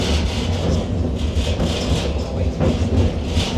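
A White Pass Scenic Railway train in Skagway, Alaska clatters steadily along the rails, a dense rumbling roar with faint rhythmic clicks, heard close and continuous throughout.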